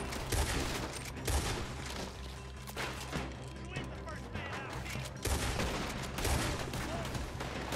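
Loud sustained gunfire fills a shootout in the game Red Dead Redemption 2, dense overlapping shots with a few sharper bursts, mixed with character voices talking over the battle.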